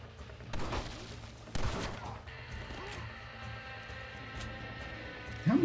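Shotgun blasts in a video game, a couple of sharp loud bursts in the first two seconds, followed by a steady electronic hum and a thump at the end.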